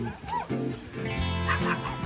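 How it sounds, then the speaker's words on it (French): Dogs on a beach give short, high barks and yips, several quick calls close together over about two seconds, with a nearby voice mixed in. "il y a que des chiens"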